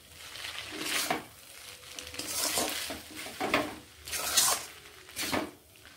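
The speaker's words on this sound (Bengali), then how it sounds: "ডিমগুলোকে মিশিয়ে নিচ্ছি।" A spatula stirs pre-fried eggs into vegetable chow mein in a pan, with repeated scraping and clattering strokes and a light sizzle, loud and close.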